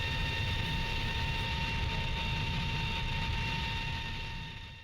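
Jet aircraft engine roaring during takeoff in the flight simulator game Strike Fighters 2, a steady loud broadband rush with a high whine, fading slightly at the end.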